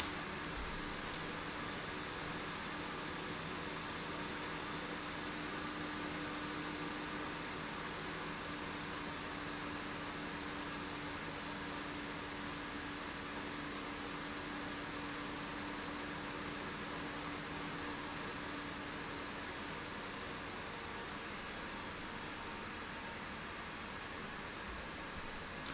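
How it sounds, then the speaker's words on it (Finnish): The cooling fan of an Epson EH-TW5400 home projector hums steadily for the full stretch, a constant airy whir with a faint tonal drone running through it and no voices. "Se tuuletin vähän aikaa vielä hurisee vähän voimakkaammin, sitten hiljenee pikkuhiljaa sitä ekotilan kierroksille."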